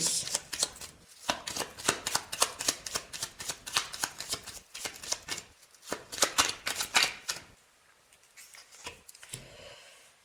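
Tarot cards are shuffled and drawn for a cross spread, a long run of rapid, close papery riffles and flicks that thins out into a few quieter slides and taps near the end.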